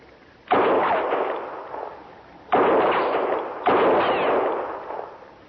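Gunshots in a western shootout: three loud blasts, each followed by a long rolling echo that slowly fades, spaced a couple of seconds apart with no voices.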